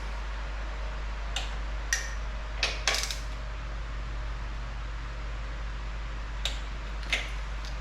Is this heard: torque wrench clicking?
yes